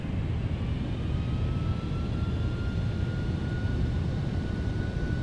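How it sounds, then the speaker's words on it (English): Thrust reversers on an FF Boeing 767 landing in X-Plane: a steady, loud broadband jet roar with a faint rising whine, holding constant throughout without any talk. "Here comes reversers."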